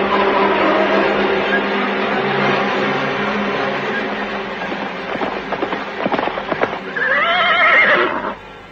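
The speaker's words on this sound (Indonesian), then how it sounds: "mereka sudah menunggangi kuda meninggalkan istana Majapahit" Horses galloping away from the Majapahit palace in a dramatized story, a continuous rumble of hooves with scattered clatter, ending in a loud, close whinny near the end.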